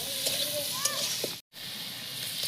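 Shrimp fry lightly in a pan with a soft, steady sizzle, fairly quiet and close, with a brief gap near the middle.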